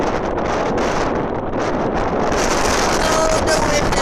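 Cold wind buffets the microphone in a steady, loud rumbling roar that runs unbroken throughout, with faint gusty swells and no voices.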